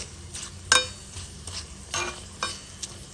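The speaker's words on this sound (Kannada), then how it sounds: "ಸಾಸಿವೆ ಕಾಳು ಚಟಪಟ ಅಂತ ಸಿಡಿಬೇಕು ಸಣ್ಣಗೆ ಮೆಣಸು ಕೂಡ ಹುರಿದು ಕಲರ್ ಚೇಂಜ್ ಆಗಬೇಕು" Mustard seeds and Gokarna pepper frying in hot oil for a Havyaka-style tempering, giving a string of sharp, scattered pops and crackles close by over a low background hiss.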